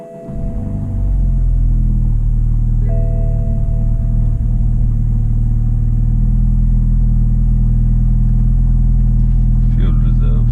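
BMW F30 320i with B48 engine and FTP charge pipes starting up and settling into a steady, loud mid-pitched engine drone while driving, continuous and close, with a brief scratchy noise near the end.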